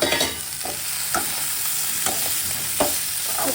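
Vegetables being stir-fried in curry masala in a pan for a vegetable fish curry, a loud continuous sizzle broken by several sharp scraping stirs at an uneven pace, close up with no talking.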